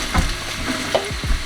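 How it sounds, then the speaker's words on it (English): Onions sizzling in hot oil give a steady close crackle with several soft thuds and stirring knocks in a short burst. "you're gonna hear that nice sizzle when we throw that out."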